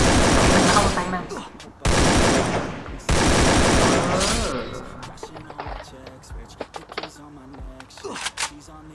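Bursts of gunfire in the mobile battle-royale game Free Fire, three loud rapid volleys in the first half followed by scattered sharper shots and clatter, with someone speaking excitedly over the action.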